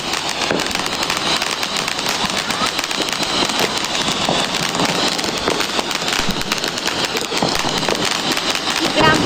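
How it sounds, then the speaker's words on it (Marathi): Firecrackers burst during Diwali celebrations in a dense, continuous rattle of crackling pops, loud and close, with voices faintly mixed in. "मी तर मस्त फटाके फोडतो, खूपच मस्त."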